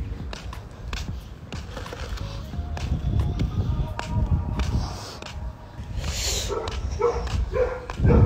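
Neighborhood dogs bark repeatedly outdoors, sharp yips and woofs coming in irregular bursts at moderate distance, with people talking nearby.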